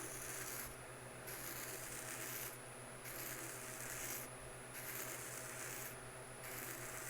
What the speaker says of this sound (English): Try to sand shape a little bit of that out